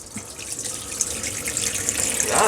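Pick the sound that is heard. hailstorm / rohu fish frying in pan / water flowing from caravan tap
water flowing from caravan tap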